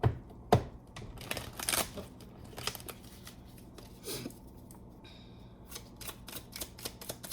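Tarot cards are shuffled close by in a quiet room, with crisp riffling bursts and soft flicks and taps in an irregular rhythm, all fairly faint.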